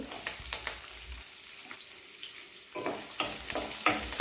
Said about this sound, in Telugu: ఆయిల్ వేడెక్కింది ఇప్పుడు జీలకర్ర వేసుకుందాం అట్లనే కట్ చేసుకున్న పచ్చిమిర్చి ఉల్లిపాయలు కూడా వేసుకోవాలి